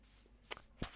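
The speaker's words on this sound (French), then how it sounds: "mes bruits de pas, ils m'ont fait peur" Footsteps in Minecraft, a few soft, quiet crunching steps, close and faint, with two light taps followed by a firmer one.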